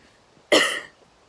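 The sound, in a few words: cough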